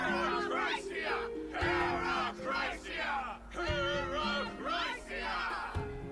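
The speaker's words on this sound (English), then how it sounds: "The members of the Council of Elders are cheering in excitement." A crowd from the Council of Elders in a video game cheers and shouts in excitement, a series of loud overlapping whoops and battle-cry bursts rising and falling over a low musical drone.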